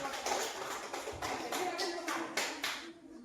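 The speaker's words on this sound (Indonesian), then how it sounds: "Sekali lagi kita beri tepuk salut." Students repeat the 'tepuk salut' salute clap in a classroom, a faint, evenly spaced series of group claps heard from a distance, with murmuring voices mixed in.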